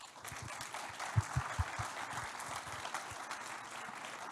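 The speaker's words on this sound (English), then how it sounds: "One big applause." Applause from an audience at the close of a panel discussion at a business conference, a dense wash of clapping with a few sharper claps standing out, steady and moderately loud throughout.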